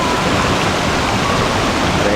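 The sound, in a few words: Batulantang waterfall rushing water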